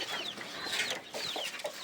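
A native hen clucks softly several times in short, irregular bursts, close by, with quiet farmyard background and no talking.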